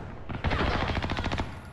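Rapid automatic gunfire in a PC shooter game, a short burst of about a dozen quick, evenly spaced shots, loud and close, stopping abruptly after about a second.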